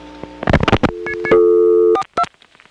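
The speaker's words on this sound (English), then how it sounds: "This is the touchtone converter putting on this reorder." A telephone touchtone converter on a 1977 Step-ESS exchange in Smyrna, Georgia, returns a loud reorder tone after a partial dial: steady beeping tone bursts close up, with brief clicks and gaps.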